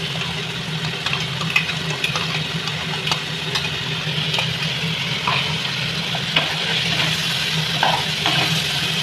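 Spice paste of ground bitter gourd seeds, cumin, garlic, onion and green chilli frying in a pan, a steady close sizzle with occasional light stirring clicks and no talking.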